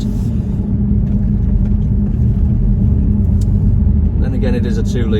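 Steady low rumble of a 2020 Jaguar F-Type P300 coupe's 2-litre engine and exhaust, a subdued mid-pitched drone heard from the cabin, with a brief voice near the end.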